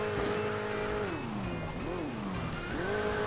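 A virtual car's engine in the Hill Climb Racing 2 video game drones loudly as it climbs a hill, its pitch sagging and rising repeatedly as it strains, with a voice talking over it.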